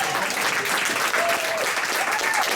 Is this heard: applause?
yes